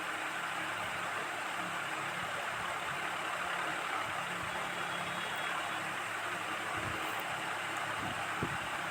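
A motorboat engine drones steadily throughout with broadband hiss like water rushing past, constant and fairly close, with no talking.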